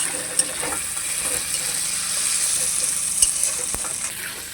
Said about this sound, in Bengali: মশলাগুলোকে ভালোভাবে ভেজে নিচ্ছি।